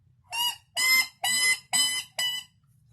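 A pipsqueak predator mouth call from Drury Outdoors gives five loud, high-pitched squealing blasts in a steady rhythm, each about a third of a second long, close and alone with no talk.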